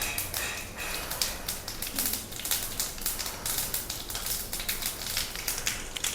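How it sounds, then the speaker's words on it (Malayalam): Mustard seeds splutter in hot coconut oil, giving a dense, continuous crackle of small sharp pops heard up close. "കടുക് പൊട്ടട്ടെ."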